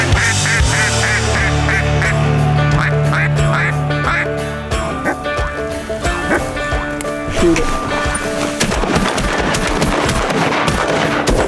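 Shotguns fire at ducks on a duck hunt, with several sharp reports in quick succession mixed among loud quacking and honking birds, while voices talk faintly in the background.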